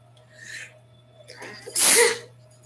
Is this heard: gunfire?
no